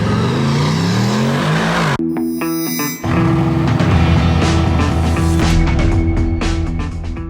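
Aston Martin DBX S SUV, a powerful V8 4x4 at a Monaco dealership, cranks and fires with a loud startup flare, then settles into a deep, rumbling idle with rising revs, heard close and alone.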